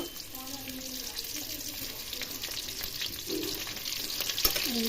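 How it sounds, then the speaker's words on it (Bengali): Large chunks of potato fry in hot oil in a wok for mutton kosha, a soft continuous sizzle under faint kitchen clatter, with a voice speaking briefly in the background. "এই যে কড়াইতে তেলের মধ্যে আলুগুলোকে একটু ভেজে নেওয়া হচ্ছে"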